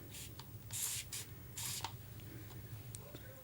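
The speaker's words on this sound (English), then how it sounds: "Let's just spray it with my spray bottle" A spray bottle gives about four quick hissing squirts of water onto a watercolor palette, a couple of them longer bursts, close by in an otherwise quiet room.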